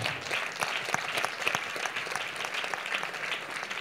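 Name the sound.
congregation applauding in church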